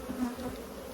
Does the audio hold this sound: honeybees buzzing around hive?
yes